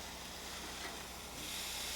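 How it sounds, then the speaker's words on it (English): Barbecue meat sizzles on a grill with a soft, even hiss that fills the moment with no voices, quiet and close. "doesn't that sound sizzling good?"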